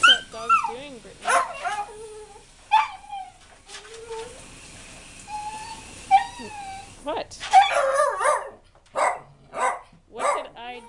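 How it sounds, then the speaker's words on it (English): A dog whimpers and yips in high, whiny bursts, then gives a few sharp barks, close by, with a person speaking briefly. "What is that dog doing"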